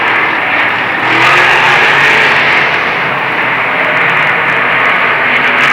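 Modified race cars howl around the Lernerville Speedway dirt oval in 1994, a loud, sustained pack of engines with rising and falling revs as cars pass close by.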